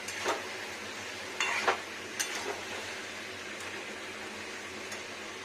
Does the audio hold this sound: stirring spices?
yes